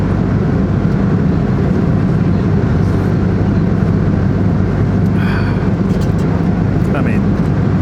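Loud, steady roar fills an airplane cabin in flight at sunrise, with a brief voice rising faintly over the constant engine and air noise.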